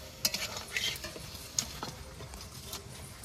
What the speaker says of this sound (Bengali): সব মশলা দিয়ে একসঙ্গে কষিয়ে নেব।